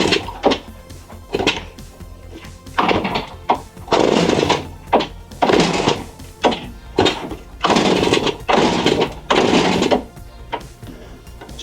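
A 1965 Suzuki K10 motorcycle with good compression being kicked over, a series of rhythmic bursts of chuffing engine turnover that nearly catches, close and fairly loud.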